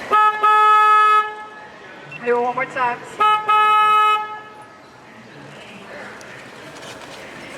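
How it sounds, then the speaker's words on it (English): A tour riverboat's deep horn blasts loudly twice, then a voice speaks briefly before one more long honk, with background rumble afterward, on a river in San Antonio, Texas. "I'm going to go ahead and honk my horn for you"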